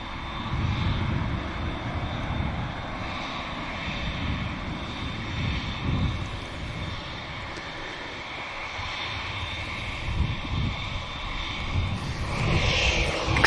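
A Boeing 787 Dreamliner at Manchester Airport gives a steady, moderately distant engine roar that holds evenly throughout, swelling slightly at the end, with no voices.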